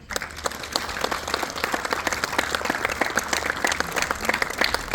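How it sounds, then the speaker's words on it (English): A crowd gives firefighters a big hand at a Tunnel to Towers Foundation event in Portland, Indiana: sustained, dense applause of many clapping hands at moderate level, steady from start to finish. "Let's give them a big hand."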